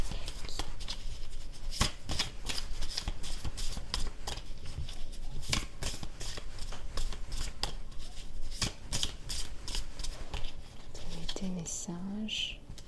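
Oracle cards are shuffled by hand in rapid, crisp riffling bursts that continue steadily throughout, with a soft voice faintly heard near the end.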